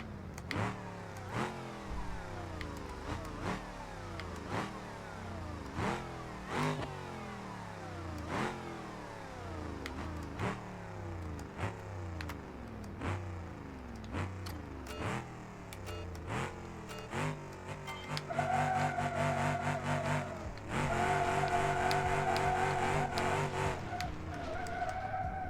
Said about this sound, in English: Oh, new engine sounds.